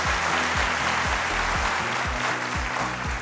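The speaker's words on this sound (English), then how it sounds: "Can we give them a big round of applause?" A studio audience at a televised school quiz competition breaks into sustained, dense applause, many hands clapping together at a loud, even level throughout, with no voice on top.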